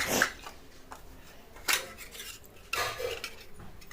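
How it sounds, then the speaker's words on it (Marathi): Metal puja idols and plates are being washed, giving faint, close clinks and clatters of metal on metal in irregular bursts with quiet rustling between. "तर येथे मी सगळे देव अशी धुवून ठेवणार आहे."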